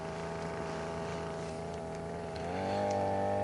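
A small engine with its exhaust routed downward drones steadily on a fishing outing in Texas, then its pitch jumps and settles higher as it shifts into second gear, a smooth humming tone heard fairly close.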